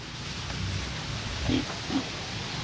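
Two or three quiet oinks from small pigs come in short bursts over a constant noisy background, with no talking.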